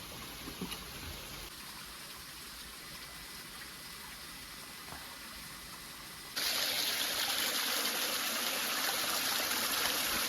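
Steady, soft rushing of flowing stream water in a mountain crevice, growing noticeably louder and brighter partway through.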